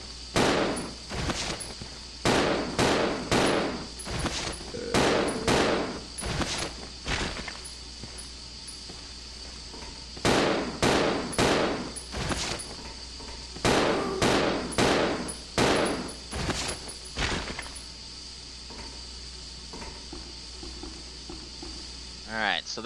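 Handgun shots fired at a zombie in Resident Evil Zero HD, a series of sharp, loud reports in quick bursts with brief pauses between groups, over steady game background ambience.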